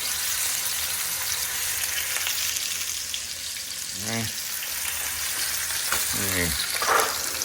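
Pork chops fry in hot grease for a Cajun rice and gravy dish, giving a steady broadband sizzle throughout, with a few brief clinks or scrapes of moving the meat around in the pan.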